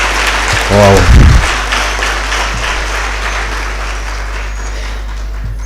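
Applause from an audience at a communication studies and public relations programme event, steady clapping running through the clip, with a voice speaking over it and a loud low hum underneath.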